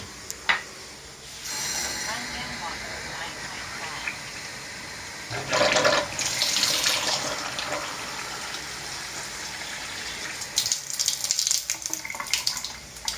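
A Kangen water ionizer set to pH 9.5 runs water in several bursts: a short gush, a louder stream in the middle, then a final spurt. The flow is fairly faint and close, with quiet room sound between.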